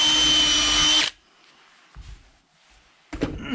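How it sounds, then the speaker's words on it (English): A power drill pre-drills a hole in wood for a pitcher pump base, whining loudly and steadily for about a second before stopping, followed by faint handling knocks and a brief clatter near the end. "Okay, so now I pre-drilled it"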